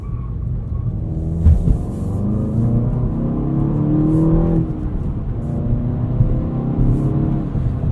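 A 2016 Volkswagen GTI SE with a manual gearbox accelerating hard in second gear, a loud interior engine drone rising steadily in pitch with a brief shift-like thump early on, no talking.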